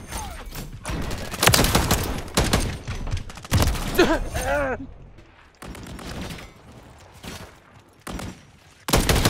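Bursts of rapid gunfire from a first-person shooter video game crack out in several loud volleys between pauses, mixed with excited shouting from a player.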